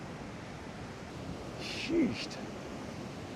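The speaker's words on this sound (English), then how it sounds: "I don't want to be out there swimming in those waves" Sea waves wash onto a Scottish shoreline along the Cape Wrath Trail, a steady faint rushing surf that swells briefly near the middle, with a short spoken exclamation over it.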